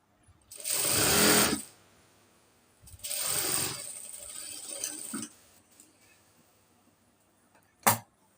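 A sewing machine stitches straight pants in two close, steady whirring runs separated by a pause. A single sharp click comes near the end.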